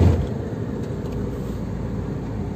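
Car cruising in fifth gear on an undulating road, a steady loud drone of engine and road noise inside the cabin, unchanging throughout.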